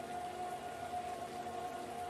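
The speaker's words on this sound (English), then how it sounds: "I love the sound of the rain in this. It's got the thunder and everything else." Steady rainfall in Farming Simulator, a dense even patter with a faint tonal hum, no distinct thunder clap, no talk.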